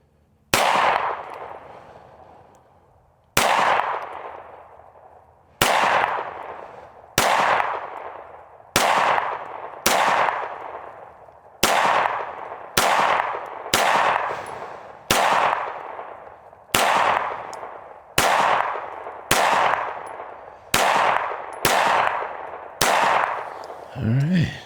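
Smith & Wesson M&P M2.0 pistol with a Performance Center slide fired at a range, about fifteen loud, sharp close shots spaced roughly one to three seconds apart, each followed by a ringing decay.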